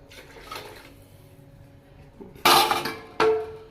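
Water poured into a pan of Chennai-style tamarind fish curry, two loud close splashing pours near the end, preceded by quieter clinks and rustles.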